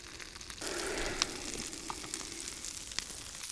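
Salmon fillet sizzling in butter in a pan over a DIY punk can camping stove, a steady crackling fry that starts abruptly and continues with occasional sharp pops.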